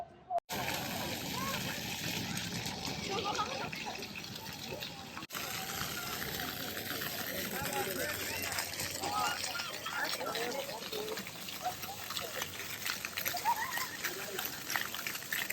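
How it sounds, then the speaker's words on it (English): Someone splashes through water outdoors on a hot day in Mexico City, water trickling and splashing steadily, with continuous rushing and small splatters throughout and no clear pauses. "So I went splashing through the water because it's a super hot day"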